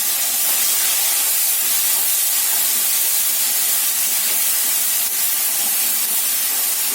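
Ginger-garlic paste hits hot oil tempered with black cumin seeds, giving a loud, steady hiss that holds evenly for the whole stretch with no talking.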